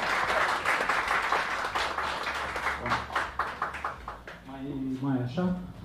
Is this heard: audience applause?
yes